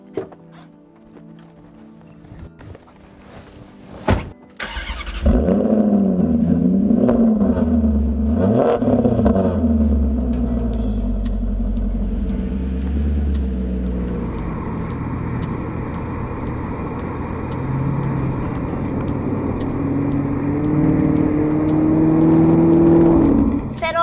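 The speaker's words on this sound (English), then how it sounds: "this engine just springs to life with an eagerness that's exciting" A Maserati GT's naturally aspirated engine starts up and revs hard, its pitch climbing and falling through several bursts before settling into a loud, sustained acceleration.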